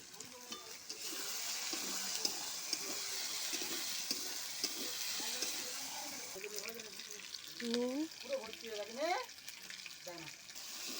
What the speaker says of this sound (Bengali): নুনটা দিয়ে একটু ভেজে নেবো, টমেটোটা যাতে গলে যায়